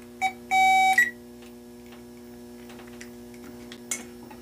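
Electronic beeping from a battery-powered power probe while a relay is tested: a short tone, then a longer steady beep of about half a second, fairly close and loud, followed by quiet background with a steady hum and faint ticks.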